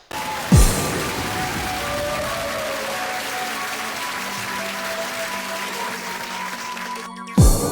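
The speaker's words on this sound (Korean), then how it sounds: "큰 박수 부탁드립니다." A television trot-music show audience applauds a singer, a broad wash of clapping lasting several seconds, even and fairly loud, with faint sustained tones underneath and a thump at each end.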